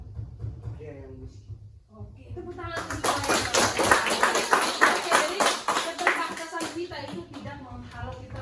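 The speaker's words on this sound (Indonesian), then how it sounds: "Oke, tepuk tangan untuk saya." Students clapping together in a classroom, a dense burst of applause lasting several seconds, with a voice talking before and after it and children's voices mixed in.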